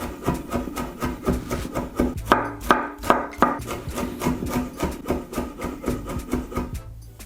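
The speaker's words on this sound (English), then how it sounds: "Also roughly chop some of the fresh garlic." Fresh garlic being roughly chopped with a knife on a board, a steady run of quick, close knocking cuts with no talking.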